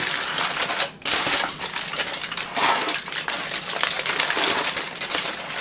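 Aluminium foil being crinkled and folded around a stuffed pork loin, a steady close rustle and crackle that runs through nearly the whole stretch with a short dip early on.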